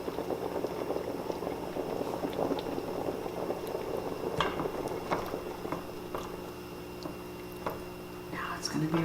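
Thick meat spaghetti sauce bubbles and simmers steadily in a pot while red pepper is stirred in, with soft spoon knocks and scrapes near the end and faint talk in the background.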